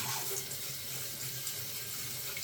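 Water gushes strongly from a tap through a carbon filter, a steady, close, continuous rushing hiss with no pauses and no voices.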